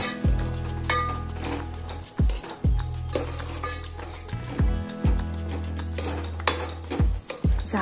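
Sliced onions sautéing with spice masala in a pan for Maharashtrian mutton curry, a steady loud sizzle broken by repeated scraping stirs of a spoon against the pan, with no talk.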